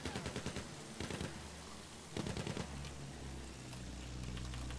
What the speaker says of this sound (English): There is a lot of infantry fire to dodge.